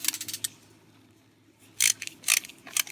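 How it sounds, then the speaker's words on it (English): A Phillips screwdriver working screws out of a video game cartridge shell, light metallic ticks and scrapes in short clustered bursts with a quiet gap in between, close and small-scale, no voices. "I have a screwdriver here with my Phillips bit, and I will carefully"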